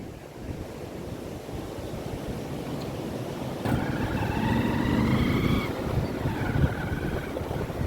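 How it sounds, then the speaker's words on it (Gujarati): Sea waves roar against the shore during the monsoon season, a steady broad rumbling surge with gusts of wind buffeting the microphone and a faint tonal hum passing midway. "હવે દરિયો ઘૂઘવટા કરે છે"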